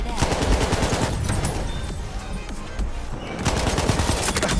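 A BAR M1918 automatic rifle fires in Battlefield 1 in loud, fast bursts of rapid shots, with a short lull between the bursts.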